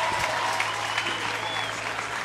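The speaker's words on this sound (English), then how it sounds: "he'll get a good cheer from the crowd" Crowd cheering and applauding in a stadium for French runner Clavel Kayitare in the men's 200m T42 final at the 2013 IPC Athletics World Championships in Lyon, a steady broad roar of clapping and voices, loud and continuous throughout.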